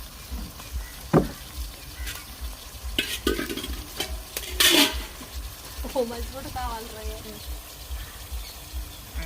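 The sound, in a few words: stirring small-fish curry in a wide pan with a cloth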